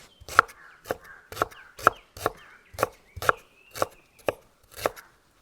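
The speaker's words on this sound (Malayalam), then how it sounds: "നമ്മുടെ കഴുകിയ ഇഞ്ചിയും കൂടെ നമുക്ക് അരിഞ്ഞെടുക്കാം." Washed ginger being chopped with a knife on a cutting board for a carrot and beetroot juice, about ten sharp, evenly spaced chops, close and clear with no talk.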